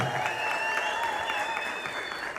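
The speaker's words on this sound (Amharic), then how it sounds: "እልል ብለን አንዴ እስኪ ድብልቅልቅ አድርገን እናመስግነው።" Dense applause from a crowd, with high wavering trilled cries rising above the clapping throughout.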